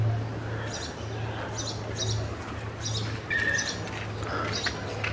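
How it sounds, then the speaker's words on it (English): Birds chirp outdoors in a natural setting, faint and distant, with scattered short high calls spread across the clip over a steady low hum. "I hear the birds."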